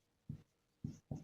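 Three short, soft strokes of writing out a Euclid division lemma, a quick tap followed by two closer together, in a quiet room with no speech.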